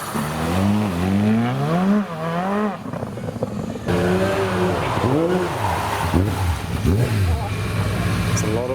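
Road-legal Le Mans race car engine driving and revving, with rising and falling sweeps of pitch as it accelerates and shifts, loud and close, with a brief dip midway.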